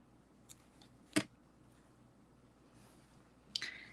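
Scissors give a single quick, faint snip while trimming the excess off a knot, with a few soft handling rustles before and after in a quiet room.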